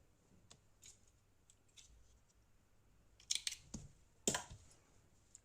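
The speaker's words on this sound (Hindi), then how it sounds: "यहाँ से हम ऊन को काट लेंगे" Scissors snip wool yarn during a baby booties knitting tutorial, two or three crisp close cuts after soft handling rustles in a quiet room.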